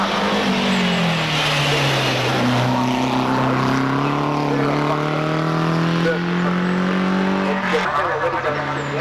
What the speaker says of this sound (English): Harold Foster in their 1000cc BMW